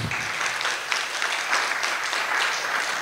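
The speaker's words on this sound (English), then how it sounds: "another applause to the panelists" Dense, sustained applause from a large audience for panelists at a 'Children of Independence' event marking Uganda at 60; a full roar of many clapping hands that holds steady throughout, with no voices above it.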